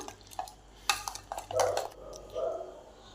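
Cake batter for mango mini cakes being stirred in a bowl after twenty-five grams of oil goes in: scattered utensil clinks and soft wet swirls, close and fairly quiet.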